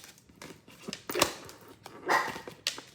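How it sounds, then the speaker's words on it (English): A dog barks a few times in short, sharp bursts, fairly close, with quiet rustling between barks. "my dog's just barks out of nowhere"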